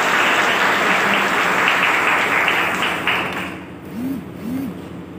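A crowd applauds at a Scouts and Guides motivational talk, dense steady clapping filling the first three and a half seconds before thinning out, followed by two short voiced tones.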